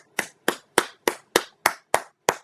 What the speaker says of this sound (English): That's me clapping, not an audio effect